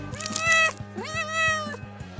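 A cat in a kitchen gives two clear, drawn-out meows close by, rising and falling in pitch, with faint rhythmic ticking underneath.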